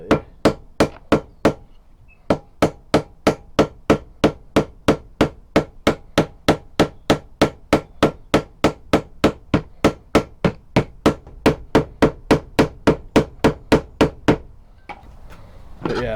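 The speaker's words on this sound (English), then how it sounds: "put the washer on, hammer it over basically" Steady hammering on a cutlass guard, peening over a rivet end after a washer is fitted, about thirty sharp metallic blows in an even rhythm, close and loud, stopping near the end.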